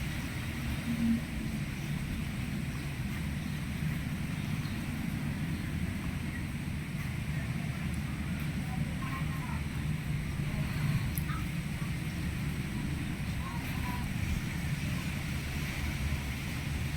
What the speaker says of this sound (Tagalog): Yan yung ugong diba? Pag may ugong, biglang lumalakas yung hangin.